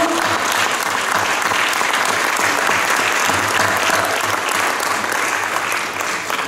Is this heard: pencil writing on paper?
no